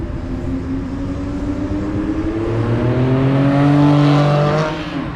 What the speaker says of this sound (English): let's see if we can get a flyby just to hear this car